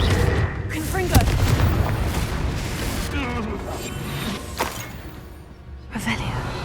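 A Confringo blasting spell explodes in Hogwarts Legacy, a dense booming crash with rumbling debris over continuous low game noise, followed by a fainter second impact; a voice speaks in the background.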